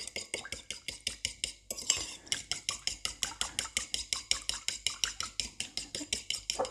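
A utensil beats egg yolk into kringle dough in a bowl, giving rapid, even clinking strokes about five per second, with a short pause near two seconds before the brisk rhythm resumes.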